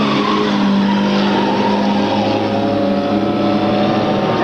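Race cars circling an auto racing track, including a Nissan Micra, their engines blending into a loud, steady, buzzing drone that holds at a constant level throughout with no voices.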